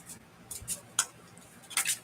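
A deck of oracle cards being shuffled by hand close up, giving a few quiet, separate riffling and flicking bursts with short pauses between them.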